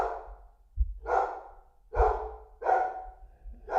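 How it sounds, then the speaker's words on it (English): A dog barks indoors at night, four muffled, low barks spaced about a second apart, fairly close and moderately quiet, with faint thumps underneath and no talking. "Hey, I heard that last little bark."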